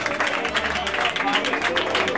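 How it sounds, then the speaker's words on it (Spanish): Loud crowd applause at a tribute show for drag performer Angy Kristel, dense sustained clapping with cheering voices mixed into the wash of sound. "Es el fuerte aplauso."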